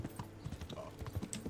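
Faint horse hooves clip-clop at a steady walking rhythm in the medieval role-playing video game Kingdom Come: Deliverance, with soft game ambience around them.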